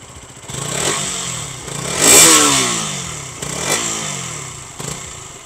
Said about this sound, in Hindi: काफ़ी रिफाइंड एग्जॉस्ट थंप है